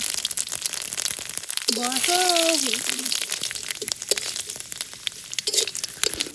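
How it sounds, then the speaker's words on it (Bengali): Dry chillies, bay leaves and panch phoron crackle and sizzle in hot oil for a doi katla fish curry, a steady frying hiss throughout with a brief higher tonal whine in the middle and a voice talking at times. "তেলের পরে শুকনো মরিচ, তেজপাতা আর পাঁচফোড়ন দিয়ে দিচ্ছি।"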